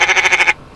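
A goat gives one loud, close, wavering bleat lasting about half a second, pulsing in quick tremolo, then cuts off into quiet.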